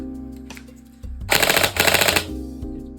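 A Tokyo Marui HK417 airsoft rifle fires on full auto in one short burst of rapid, sharp mechanical cycling. A brief pause breaks the burst, and low hum sits underneath. No talking.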